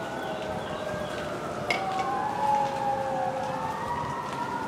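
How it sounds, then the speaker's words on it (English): Emergency vehicle sirens wail at a distance in a town in Louisiana, their rising and falling tones overlapping steadily over a low background rumble of traffic. "Hear sirens, hope everything's okay."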